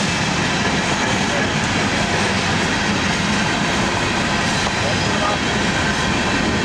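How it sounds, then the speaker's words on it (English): An EMD-led freight manifest train rolls past leaving Le Mars, Iowa, a loud, steady broadband rumble that holds constant throughout with no gaps. "I'll do it after this train"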